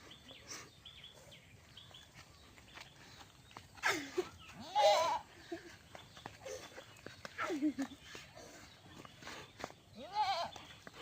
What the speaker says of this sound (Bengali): এটা হচ্ছে সবার বড় ছাগল